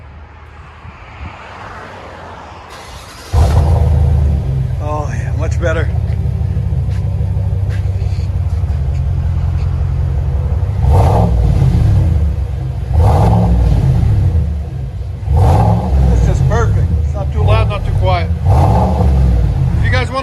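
Cabin view of a GMC Sierra Denali/AT4 with the 6.2L V8: a steady deep low rumble that swells in repeated revving surges, heard from inside, with brief talk early and a quieter stretch before the engine note fills in.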